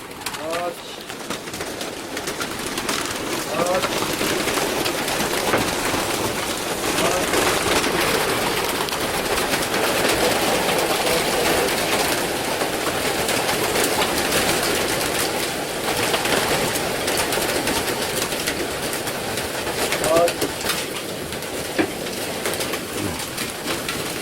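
Young racing pigeons arriving at a loft crowd together cooing and fluttering, a dense close chorus of coos with wing flaps and scuffles, while people talk nearby.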